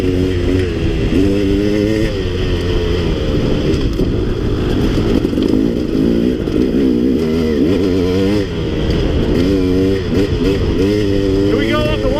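KX 450 or KTM dirt bike ridden through sandy desert washes, engine revving hard with repeated throttle bursts and gear shifts, loud and close, with a rider talking over the engine.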